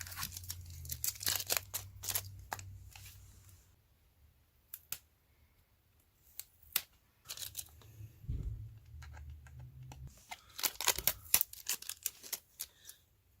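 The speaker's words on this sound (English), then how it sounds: "Gonna peel off the plastic right quick." Plastic wrap and tape being peeled and torn off a CD package, bursts of crinkling, ripping and sharp clicks separated by quiet gaps, close and fairly soft with no talking.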